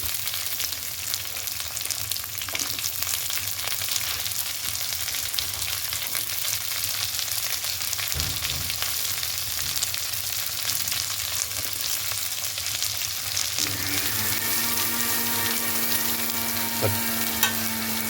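Shallots and green chillies frying in a pan for a fish curry, a steady close sizzle with stirring scrapes, the pitch shifting near the end as the oil hisses more sharply.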